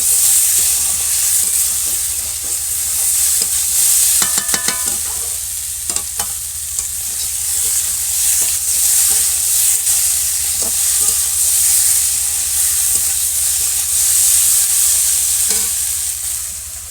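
Vegetables with ginger and chili paste fry in a pan after water is added, a loud steady sizzle and hiss under repeated clattering stirs, continuous and close with no speech.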